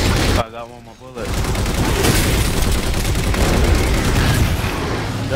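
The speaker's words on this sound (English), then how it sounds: "I'm using the left turret right now" Sustained turret gunfire in the video game Halo 4 during a co-op Legendary mission, a loud rapid roar of shots that starts after a short pause and carries on without letup, with players' voices underneath.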